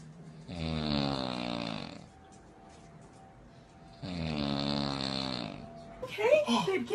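A person asleep lets out two long, loud, droning snores, each about a second and a half, with a quiet pause between them and a brief, different rustling noise right at the end.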